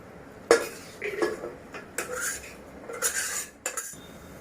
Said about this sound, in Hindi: वटाना डाल के मैं अच्छे से मिक्स कर लूँगी